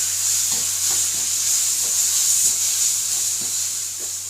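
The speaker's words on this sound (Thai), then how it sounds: "หมูบดลงไปนะฮะ คนให้มันเข้ากันนะครับ" Ground pork fries in a pan with a bright, steady sizzling hiss while a utensil stirs it in regular rhythmic strokes, close and loud.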